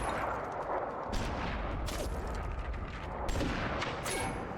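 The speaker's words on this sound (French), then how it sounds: "Sniper. Et il tire sur n'importe qui." Rapid bursts of gunfire from a sniper in a horror video game, loud and dense throughout with sharp cracks near 1.2, 2.0 and 3.4 seconds over a constant rumbling backdrop.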